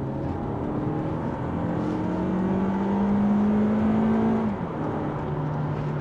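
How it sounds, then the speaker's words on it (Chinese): From inside the cabin of a 2023 Toyota Camry 2.5V, a muffled engine hum rises smoothly in pitch over a constant road drone, then drops away abruptly, kept faint and steady throughout. "除非是4000轉以上，你才可以微微在這個室內聽到一點點引擎聲浪"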